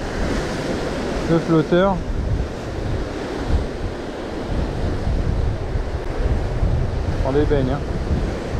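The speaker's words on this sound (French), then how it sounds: "Oh, la vague, elle a tiré" Sea waves surge and wash against a rocky shoreline during coastal fishing, a loud, continuous roar mixed with wind noise on the microphone, while people talk briefly nearby.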